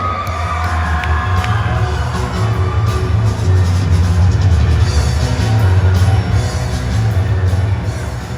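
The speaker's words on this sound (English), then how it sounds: "Let us give a big round of applause to Prisha Merced" A pageant audience cheering and clapping as a candidate is introduced, a loud, sustained crowd roar with whoops and yells that swells midway and holds throughout.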